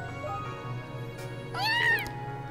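A black cat in the video game Trails of Cold Steel gives a short, rising meow that stands out clearly over steady background game music.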